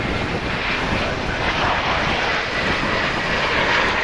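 An American Airlines passenger jet arriving from Los Cabos passes at DFW Airport, its engines a steady, loud, broadband roar that fills the whole stretch with little change and no voices over it.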